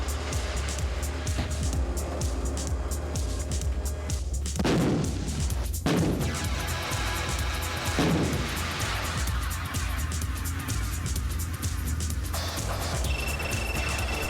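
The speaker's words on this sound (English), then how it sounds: "South Africa's massive G6 howitzer, which employs a semi-automatic loader that can fire up to 4 rounds per minute." South Africa's massive G6 howitzer, a semi-automatic-loading artillery piece, fires with sharp heavy blasts, a couple of booms rolling out over steady background noise and mechanical rumble.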